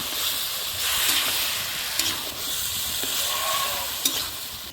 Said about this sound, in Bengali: ভালো করে আমি তেলের সাথে মিক্স করে নেব এরকম করে